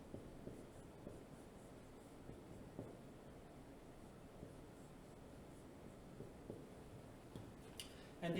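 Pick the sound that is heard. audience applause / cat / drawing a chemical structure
drawing a chemical structure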